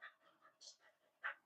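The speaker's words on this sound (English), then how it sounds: "Doggos are breathing super loud." Dogs panting heavily in hot weather, a quiet, close series of rhythmic breaths with a few sharper huffs.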